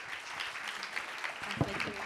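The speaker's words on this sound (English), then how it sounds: "Round of applause for them." Brief scattered applause from a conference audience for two panel speakers at an e-commerce business event, moderately loud and steady, with a speaking voice briefly rising over it near the end.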